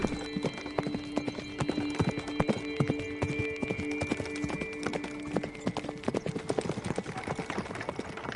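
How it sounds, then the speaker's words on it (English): Hooves clip-clop in a brisk, steady cantering rhythm as a horse-drawn wagon travels along dirt roads, with a faint whinny and creaking tones underneath, close and clear without talking. "a horse-drawn wagon canters through the dirt roads towards Marlena's Meadow"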